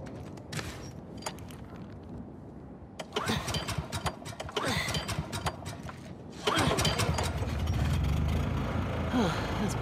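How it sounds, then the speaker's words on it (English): A generator engine in The Last of Us Part II cranks and catches, rising from sputtering turns into a louder, steady running chug, with voices talking over it. "found the generator"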